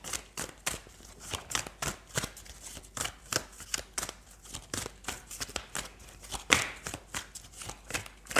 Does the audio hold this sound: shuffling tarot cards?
yes